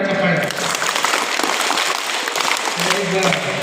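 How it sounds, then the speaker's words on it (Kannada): Schoolchildren in a classroom clap together in a lively round lasting a few seconds, with voices mixed in and the clapping fading toward the end. "ಚಪ್ಪಾಳೆ."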